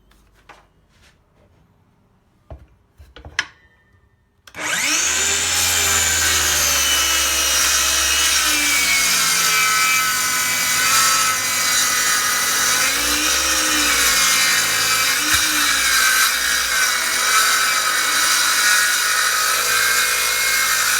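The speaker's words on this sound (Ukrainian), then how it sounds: "Давайте вздовж волокон попробуємо різати. Того самого бруска. Буковий." A DeWALT DCS570 cordless circular saw rips a hardwood beech bar along the grain. After a few quiet clicks and handling knocks, the blade spins up and cuts in one loud, continuous, close whine that lasts to the end.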